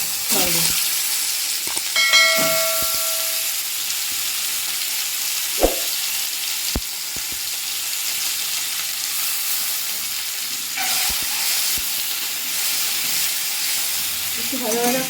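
Spice-coated eggs fry in a little oil in a pan for curry, giving a steady close hiss broken by scattered crackles and sharp pops throughout.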